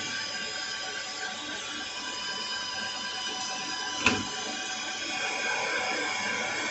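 A metal lathe turning down a valve on automatic feed gives a steady mechanical whir and hum with a constant tonal whine, heard close and even, broken by one short sharp knock midway.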